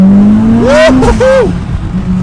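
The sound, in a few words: 800hp Mitsubishi Evo X accelerating on a street pull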